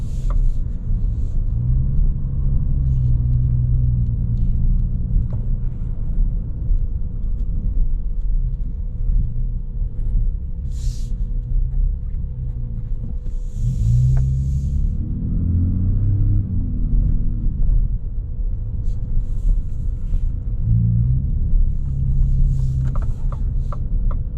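A Ford F-150 Raptor pickup truck with the 37 Package gives a deep, steady engine rumble with a throaty exhaust note that swells briefly midway, continuous and fairly loud, with no voices.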